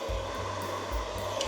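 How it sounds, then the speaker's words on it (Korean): A hair dryer blows steadily and loudly on hot setting while styling bangs with a small round brush, a continuous rushing whoosh with a low hum that wavers slightly in strength, close by and without speech. "드라이기 뜨거운 바람으로"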